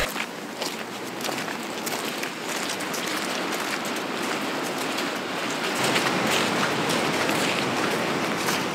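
Steady rain patters densely on surfaces close by near a waterfall in Iceland, a constant hiss that swells slightly louder toward the end, with no voices.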